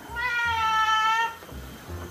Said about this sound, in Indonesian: Tuh kucing ibu tuh.